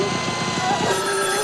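Telephone ringing in the 1974 film Black Christmas, a brief bell-like tone held over a low rumbling background with some voice present.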